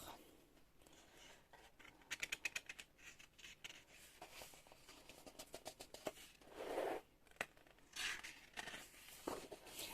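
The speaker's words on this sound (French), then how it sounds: "je vais le feuilleter avec vous pour que vous puissiez voir les illustrations à l'intérieur" Pages of an illustrated colouring book with thick, smooth paper are turned one after another, giving soft, close rustles and flicks in an uneven rhythm, faint and quiet overall.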